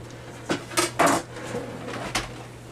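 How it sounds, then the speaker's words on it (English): Metal utensil clinks against a crock pot on high as au jus is stirred, giving a few sharp knocks and scrapes close by that are spread unevenly over a couple of seconds. "Alright, we're going to stir that up."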